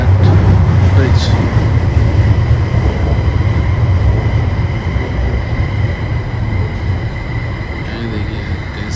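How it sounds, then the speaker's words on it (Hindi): A metro train rumbles loudly and steadily on the tracks, a dense continuous roar that eases slightly as it goes on. "ये देखिए आपके लिए मेट्रो आती हुई है।"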